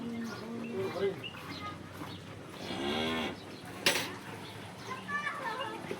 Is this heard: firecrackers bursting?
no